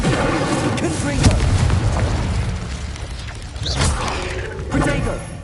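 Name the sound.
spell casting effects and blasts, Hogwarts Legacy video game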